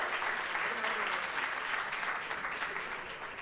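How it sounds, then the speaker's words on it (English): An audience applauds performing artists at an India-Kuwait cultural festival evening of classical dance, with steady, dense clapping that holds throughout and slowly fades a little toward the end, heard from a moderate distance. "Let us have another big round of applause for all of them,"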